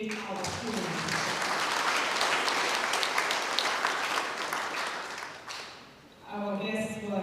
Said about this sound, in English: So can we really clap and appreciate our students?